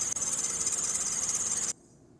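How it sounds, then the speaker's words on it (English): A car engine's slipping drive belt shrieks in a shrill, steady squeal with a slight pulsing wobble. It then cuts off abruptly into near silence, and no voices are heard. "the reason for this is due to a slipping drive belt."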